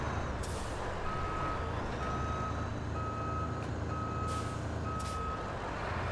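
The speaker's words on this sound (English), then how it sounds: "That truck is moving now." Truck in the Roadcraft video game reversing, with a steady series of evenly spaced backup beeps over a constant engine rumble, plus a couple of short air hiss bursts.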